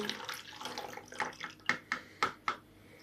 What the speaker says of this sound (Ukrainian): Тепер наливаємо е, знову 50 мл теплої води.